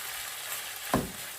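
Organic tomatoes frying in a pan with pork belly for sautéed green beans, a soft continuous sizzle broken by one brief knock or stir near the end.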